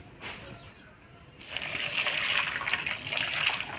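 Water poured into a hot pan of whole cumin, coriander and ginger, starting with a faint trickle and then a louder, close rushing hiss of liquid hitting the pan that holds steady to the end.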